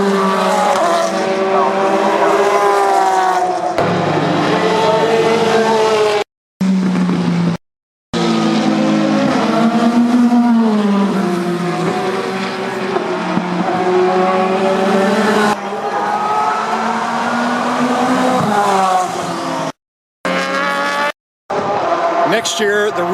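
Sports racing cars at the 24 Hours of Le Mans in 2013: loud, close engines screaming past one after another with rising and falling pitch and hard gear changes, broken by a few abrupt cuts, with speech over the top.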